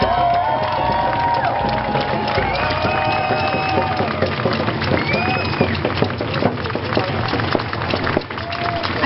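A large rally crowd cheers and shouts in a loud, continuous roar of massed voices, with whistles and scattered calls rising through the din.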